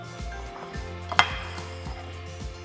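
A knife cuts into a freshly cooked, just-firm egg muffin cup with one sharp click against a plate, over quieter soft tapping and scraping, close up with no talking.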